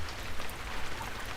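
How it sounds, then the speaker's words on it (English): Steady rain falls outdoors in cold weather, a dense, even hiss of drops on surfaces, moderately loud and close, with no voices over it. "The rain will only get worse, judging by how thick the clouds are."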